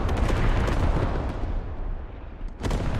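Heavy artillery fire in a military shooter game pounds an outpost in a deep, rumbling barrage, loud and continuous, with a fresh booming blast near the end.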